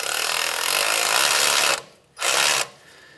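A ratchet with a 14mm socket tightens the sway bar bushing bolts on a 2007-2013 Acura MDX, giving a loud, close, whirring burst of nearly two seconds, a brief pause, then a second shorter burst.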